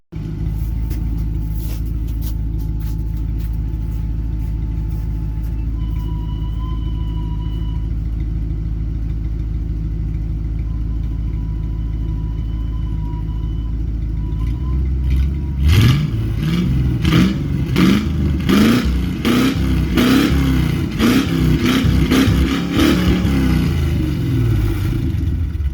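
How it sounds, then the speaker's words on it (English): Engine after a 7.3 swap idling steadily in neutral with a low rumble, then revved hard in repeated loud bursts that rise and fall, close up with no talking. "we're gonna do the revs in neutral"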